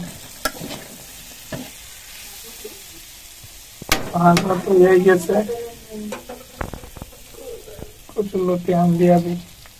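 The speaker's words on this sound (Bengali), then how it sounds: "কি ভাজাভাজি হইতাছে, ভাজা ভাজা ভাজা করতেছে" Potatoes, jackfruit seeds and long dried fish frying in a pan, heard as a steady close sizzle with stirring scrapes, while a person talks over the cooking in two stretches.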